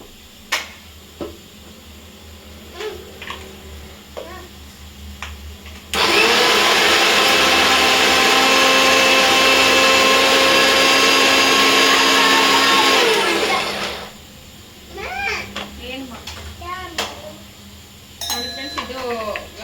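Kitchen mixer grinder whirring loudly as it grinds chili, salt and garlic into a masala for a stuffed brinjal curry. The motor drone runs steady for several seconds and then stops, with quieter kitchen clatter before and after.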